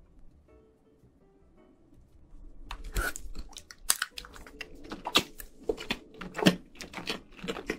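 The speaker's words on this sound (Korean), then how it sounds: "제 계란을 먹을게요." Close, crisp chewing and crunching as an egg is eaten in a Korean mukbang, with irregular wet bites after a quiet start and no talk.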